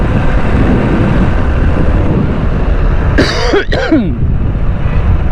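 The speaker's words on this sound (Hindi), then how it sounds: "खांसी लगी हुई है यार" A couple of short coughs, close and fairly loud, over steady outdoor background rumble.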